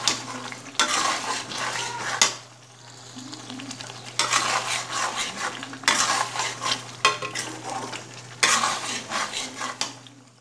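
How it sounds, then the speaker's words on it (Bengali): Mutton and spices are stirred in a pot for a Kolkata-style biryani. The spoon scrapes in repeated bursts over a steady sizzle, close and fairly loud, with short pauses between strokes. "তোমরা কিন্তু কন্টিনিউ এটা নাড়াচাড়া করবে, নইলে কিন্তু নিচ দিয়ে মশলা ঝরে যেতে পারে।"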